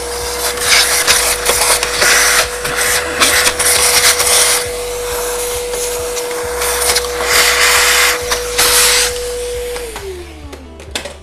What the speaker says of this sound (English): I'm going to just roughly with my vacuum cleaner